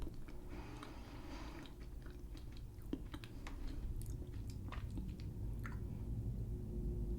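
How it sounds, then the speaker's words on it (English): A biscuit is chewed close to the mic, with steady crunching and squishy bites repeating over low background hum. "The crunch. It's a good crunch."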